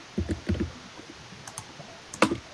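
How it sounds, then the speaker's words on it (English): Sharp clicking in short clustered bursts, a few quick clicks together early on, then sparser single clicks and a final louder cluster near the end, close and fairly quiet with no talking. "I hear me clicking."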